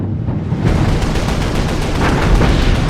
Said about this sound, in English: Laffey unleashes an anti-aircraft barrage. First, the main battery, 5-inch radar-directed guns.